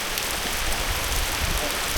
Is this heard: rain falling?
yes